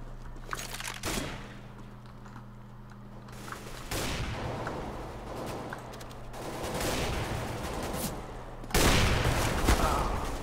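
Gunfire in a first-person shooter game, rapid bursts and volleys over a constant electronic hum, loud and close with busy noisy stretches between shots.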